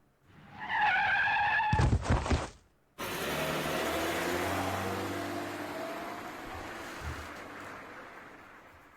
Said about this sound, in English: Ah, the car hit you.